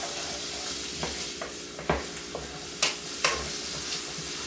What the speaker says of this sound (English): So I'm just going to stir these around until they get translucent